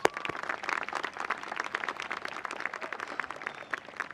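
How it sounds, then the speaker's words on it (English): Audience applause at a Dearborn High School 2017 commencement ceremony, a steady wash of many hands clapping at moderate distance, sustained throughout without pause. "Students, let's give them a big round of applause."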